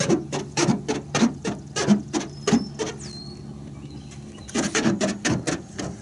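A hand rubs and squeaks across bare, unwaxed car paint in quick repeated strokes with a close, dry, grippy sound. A short pause comes midway before the rubbing starts again.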